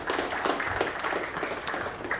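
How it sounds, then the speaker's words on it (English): A crowd at a startup gaming talk gives a short, lively round of applause, dense overlapping claps at steady loudness. "Round of applause, please"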